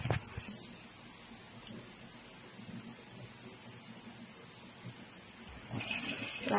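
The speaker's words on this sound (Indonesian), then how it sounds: "Lalu cuci beras ketan hitam tersebut bisa 2 sampai 3 kali" Water runs and splashes while black glutinous rice is rinsed, a soft, steady wash of sound that grows louder near the end.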